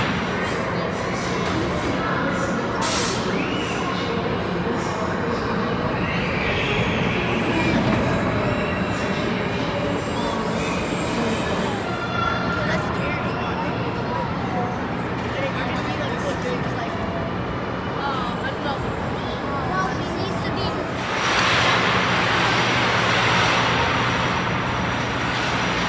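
The Shudder, a very tall, fast free-spinning roller coaster at Nickelodeon Universe in the American Dream Mall, rumbles steadily on its track, with rattling wheels and a louder swelling roar near the end while people talk.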